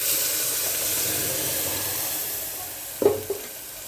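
Onion and ground masala frying in a pan for radish sambar: a steady hiss fills the clip, then a couple of soft knocks from stirring near the end.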